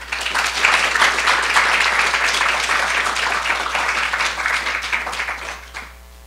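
A lecture audience breaks into sustained applause welcoming the speaker at a gender studies talk, dense steady clapping that holds for about five seconds and then tapers off quickly.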